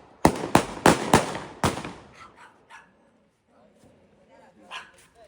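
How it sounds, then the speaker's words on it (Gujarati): Firecrackers burst outside in a rapid series of five sharp, loud cracks, followed by fainter distant pops and a dog barking, with some talk in the background. "તો હવે તમે ફટાકડા ફોડે છે એ લોકોએ, તમે એન્જોય કરો."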